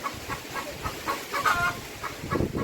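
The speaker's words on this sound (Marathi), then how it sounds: "कोंबडी ओरडली" A hen clucks in a short run of soft, repeated calls, close by but fairly quiet, with no voices.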